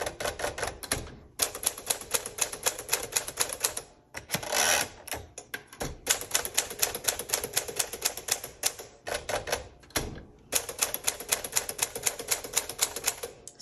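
A 1956 Smith Corona Sterling manual typewriter clatters loudly in rapid bursts of key strikes, separated by short pauses and a few heavier mechanical clunks, with no talking.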